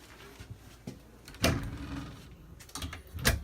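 Drawers at the base of a queen bed in the bedroom of a 2018 Georgetown 378TS Class A motorhome slide and bump shut, with two sharp knocks and a few softer clicks nearby.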